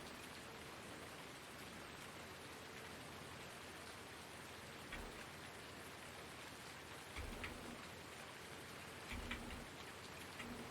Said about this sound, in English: that is the rain drowning it out